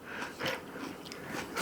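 Someone chews a mouthful of raw onion at close range in irregular crunchy bites, quiet and wet, with no talking.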